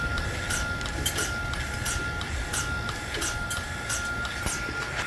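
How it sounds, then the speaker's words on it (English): A vacuum pump on a goat milking machine runs steadily with a constant hum and a rhythmic ticking pulsation repeating about twice a second, close and alone. "We are done milking, so we have to turn off the pump."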